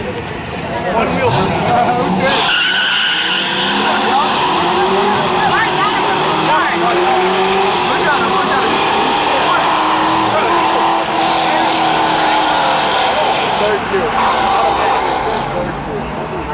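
A Mustang doing a burnout at an outdoor car meet, engine roaring loud and steady with sustained tire squeal for the whole stretch, while a crowd shouts and talks over it.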